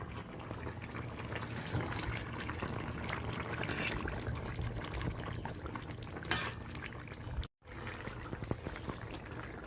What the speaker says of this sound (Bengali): তরকারিটা ভালোভাবে ফুটে গেছে।